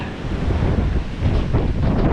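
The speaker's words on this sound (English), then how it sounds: "Hear the breeze right here." Breeze blowing beside a river, a steady loud rush of wind buffeting the microphone with low rumbling gusts, continuous throughout with no voices.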